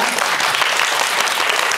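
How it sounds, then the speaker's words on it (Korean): An audience applauding at a film festival screening talk, dense, loud, continuous clapping from a full crowd with no pauses. "박수 한번 부탁드립니다"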